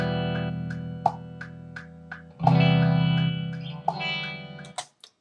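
Electric guitar with heavy effects and distortion plays a plucked melodic line over sustained chords, heard through speakers with a slightly roomy tone.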